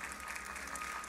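Church congregation applauding during a Sunday service, a steady wash of clapping filling the short moment without pause.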